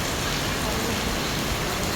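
Steady rain pours outside a train station at Sentosa Island, Singapore, a dense, even hiss of drops on surfaces that continues unbroken and fairly near throughout.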